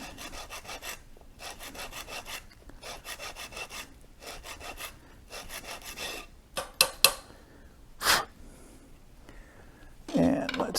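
A cork rod grip is reamed by hand in rapid back-and-forth rasping strokes, several bursts of scraping separated by short pauses, followed by a few knocks and handling clatter near the end, close up, with a voice speaking briefly.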